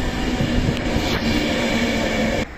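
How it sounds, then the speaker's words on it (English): Pendolino passenger train passing through Poynton station, a close, continuous rumbling roar with a steady rail hum that holds for a couple of seconds before dropping off. "Oh, another Pendolino."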